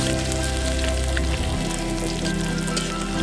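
Bay leaves dropped into hot oil sizzle loudly and continuously, with dense crackling spatter for vegetarian mixed vegetable curry, close up and with no speech.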